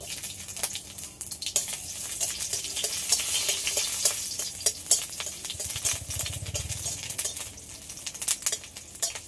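Steady sizzling of chopped ginger frying in hot mustard oil, with occasional scraping and clinks of a utensil stirring in a pan.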